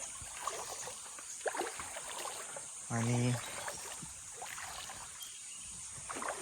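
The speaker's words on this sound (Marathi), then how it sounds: "वाहता पाणी आहे" Heavy rain has left a village stream running, and it rushes steadily in the open air. A voice speaks briefly and a short tone sounds partway through.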